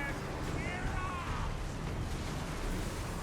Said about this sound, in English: warp lightning cannon coming in, lots of poison winds